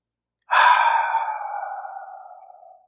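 A single deep, slow exhalation of breath during a guided breathing meditation, close and clear, fading gradually over about two seconds against silence.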